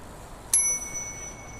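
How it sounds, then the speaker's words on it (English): A bicycle bell, rung while riding, gives one bright metallic ding that rings on briefly over steady outdoor background noise. "that's the first time I used my bell"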